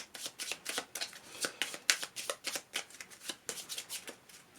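Playing cards from the Marvel Champions card game being shuffled, with a quick run of crisp, rhythmic riffling bursts repeated close up over several seconds.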